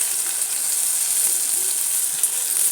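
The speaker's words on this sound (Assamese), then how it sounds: "এতিয়া মই পিচি ৰখা আদা নহৰু পেষ্টখিনি ইয়াত দি দিছোঁ।" Ginger-garlic paste sizzling in hot oil in a pan for a tomato and fish curry, a bright, steady hiss up close, unbroken and fairly loud.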